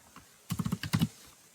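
A short burst of about eight quick, close keystrokes on a computer keyboard, set in a quiet room.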